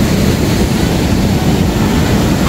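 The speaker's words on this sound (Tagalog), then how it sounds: "Oh, grabe yung hampas ng alon" Ocean surf breaking on a beachfront resort shore in Cancun, a steady loud wash of churning water and wind rumble with no voices.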